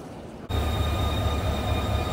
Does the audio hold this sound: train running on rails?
yes